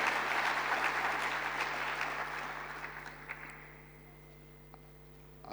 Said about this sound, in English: let's give them a round of applause because they've really done a good job